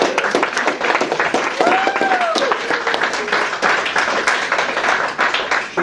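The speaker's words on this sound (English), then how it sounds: "And I'm sure the applause went for that as well" Applause from guests at an eightieth birthday party, a steady wash of clapping hands that holds for several seconds, with voices murmuring underneath.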